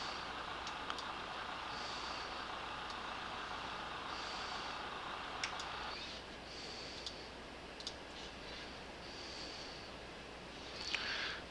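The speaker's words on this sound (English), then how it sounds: "Get rid of the fuel truck." Repeated reversing beeps from a fuel truck at an airport in the X-Plane 10 flight simulator, a steady series of short tones over a loud, constant engine drone. An occasional click rises above the hum.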